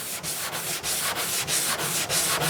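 Guide coat being hand-sanded on a car body panel gives steady, close rasping strokes, a quick rhythmic rub repeating about every third of a second with no talk.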